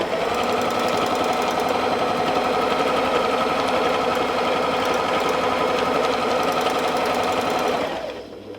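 Domestic sewing machine running steadily at speed while ruler quilting quarter- and half-circle arcs, a continuous dense mechanical whir with rapid needle knocking, close and loud, stopping abruptly near the end.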